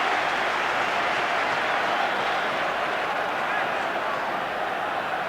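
Large football stadium crowd at an England versus Ireland qualifier in 1991, a broad, steady roar of thousands of voices with scattered applause, continuous and loud throughout.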